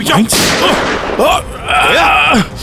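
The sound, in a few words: gunshots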